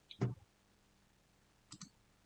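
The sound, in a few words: computer mouse click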